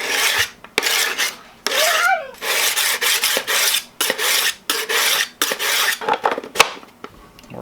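A hardened steel knife scrapes across a coarse 200 grit sharpening stone in a rapid series of loud, gritty rasping strokes, about a dozen back-and-forth passes with brief pauses between them.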